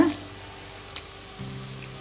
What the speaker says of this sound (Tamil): சீரகம் சோம்பும் பொடிச்சு வச்சது போட்டு நல்லா கிளறி விடுங்க